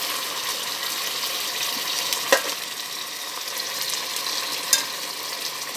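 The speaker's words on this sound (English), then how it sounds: "These ones that I put in first already browning off." Chicken pieces browning in a pan for brown stew chicken, a steady close sizzle and crackle of frying throughout, with a couple of sharp clinks.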